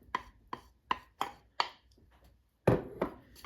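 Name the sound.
crushing shortbread biscuits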